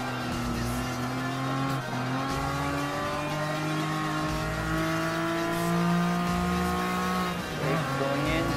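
A TVR Tuscan Speed 6 race car engine in Gran Turismo Sport, holding a steady loud drone that climbs smoothly in pitch through the gears, with brief shifts and talk over it.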